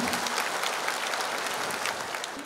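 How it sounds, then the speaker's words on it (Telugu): An audience at a Guru Purnima celebration claps together in a dense, steady round of applause that fills the hall from start to end. "ఈరోజు మీ అందరి భాగ్యానికి ఒక్కసారిగా చప్పట్లు కొట్టుకొని"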